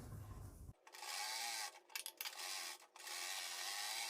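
Sewing machine stitching the neck fabric of a kurti, a steady whirring run with brief pauses and restarts, close and fairly quiet.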